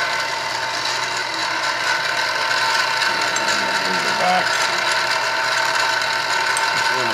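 A milling machine spindle running at about 1200 RPM plunges into a red aluminium block, giving a steady, loud mechanical whir with faint rattling that holds evenly from start to finish.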